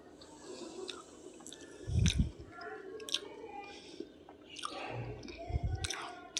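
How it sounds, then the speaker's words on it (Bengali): Close, quiet chewing of walnut and a date, with soft crunchy bites and wet squishy mastication in a few bursts against a low background. "তো দেখতে পাচ্ছ একটা খেজুর খেয়ে নিলাম ওর সাথে"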